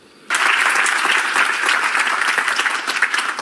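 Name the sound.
audience applause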